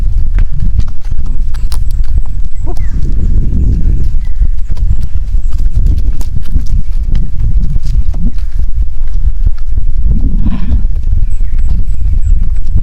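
Heavy, continuous hoof clatter on hard ground, with a horse snorting now and then, loud and close.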